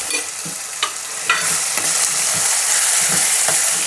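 A tempering of vadiyam, curry leaves and hing crackles in hot oil before pounded raw tamarind and red chilli chutney goes in; a close, steady sizzle with several distinct stirring knocks against the pan.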